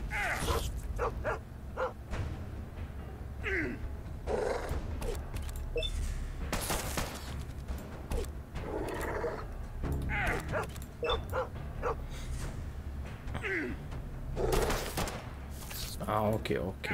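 A dog barks in the Fallout Shelter video game, with short yips and barks scattered under steady game sounds and someone talking in Romanian.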